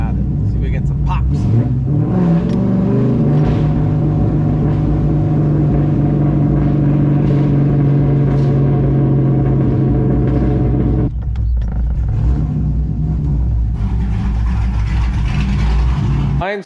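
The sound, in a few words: loud lowered cammed Corvette engine revving, exhaust pops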